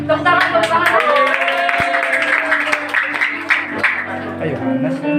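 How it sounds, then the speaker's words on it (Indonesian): A group claps in applause at a school Christmas event, a brisk burst of hand claps mixed with voices and cheering, fairly loud and close. "Tepuk tangan."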